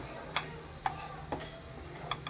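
Masala paste for a catering-style cauliflower curry fries gently over a low flame, a quiet steady sizzle broken by four or five soft spoon taps against the pan.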